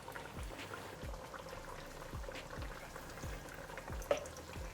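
Cap'n Crunch tofu katsu frying in hot oil, a soft steady sizzle with light bubbling and occasional pops, fairly faint and close, no talk.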